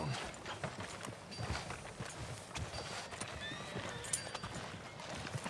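A horse's hooves clip-clop steadily in a video game, a walking rhythm of close hoof strikes with a brief whinny, under people talking and background ambience.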